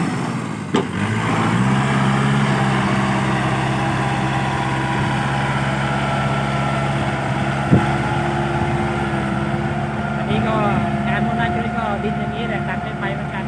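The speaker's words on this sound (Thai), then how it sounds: "เดี๋ยวเฟอร์รถไถนี่สายหัวเลยครับบ" A walking tractor engine churns through soil, a loud, steady mechanical drone with a constant pitch that holds close and unbroken throughout, with a sharp knock near the start and another around the middle.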